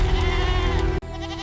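A goat bleats loudly and close by in one long, wavering cry, which breaks off sharply before a second, quieter bleat follows.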